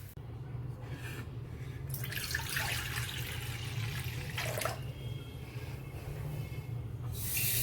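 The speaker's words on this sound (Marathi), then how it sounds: "मी आता एक तांब्यावर पाणी घातलेलं आहे छोटंसं" Water runs and splashes into a small pot in a home kitchen, a continuous pouring sound close by that swells midway and then tapers to a steadier flow.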